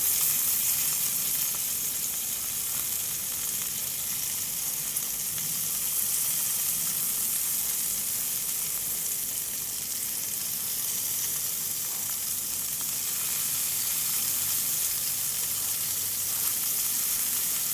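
Curry leaves crackle and sizzle in hot oil for a green bean curry, a steady close hiss of frying that holds evenly throughout with no talking.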